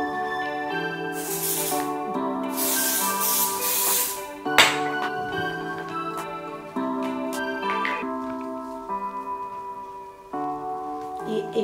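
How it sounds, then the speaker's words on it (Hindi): Modicare body spray hisses from its can in two long bursts, the first short and the second lasting a couple of seconds, heard under steady background music before a sharp knock and a fainter later puff. "यहाँ पर पहले मैं हमारा मोदी स्केयर का स्प्रे को यूज करना चाहूंगी।"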